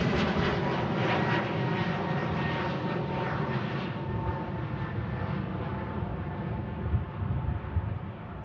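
A jet airliner bound for Bratislava climbs steadily after takeoff from Manchester Airport, its broad engine roar steady and fairly distant throughout, with no voices.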